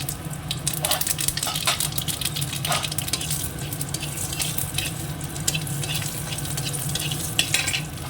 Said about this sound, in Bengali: তো দিয়ে দিয়েছি আবার তেল, আর নিয়ে নিয়েছি সর্ষে আর শুকনো লঙ্কা।